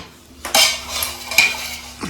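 A small metal wok clanks down onto a gas stovetop, followed by a couple of short scraping and clinking sounds.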